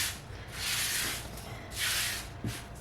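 Sage leaves are wiped away by hand across a surface, making two soft, breathy swishes close up with a faint tap near the end, quiet and without talking.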